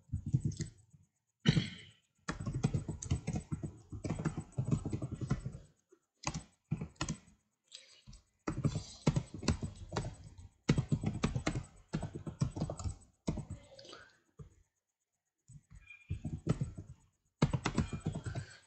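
Python code for a Huffman file-compression project is typed on a computer keyboard in quick bursts of close, crisp key clicks separated by short pauses, with no talking.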